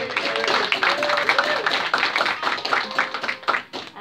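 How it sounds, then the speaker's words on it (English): Warm applause from an open mic audience welcoming a singer to the stage, fairly loud and dense clapping mixed with cheering voices and chatter, tapering off toward the end. "For a big warm round of applause, make her feel welcome"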